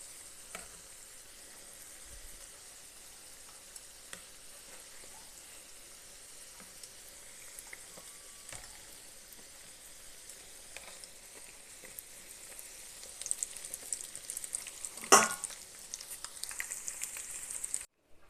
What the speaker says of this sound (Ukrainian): зараз обсмажую їх на сковорідці в олії до золотистого кольору